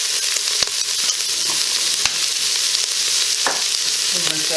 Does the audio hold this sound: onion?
yes